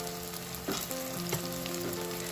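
Loud, continuous sizzling of chole masala with Kashmiri red chilli powder frying in oil, with a few clinks of a spoon stirring the pan.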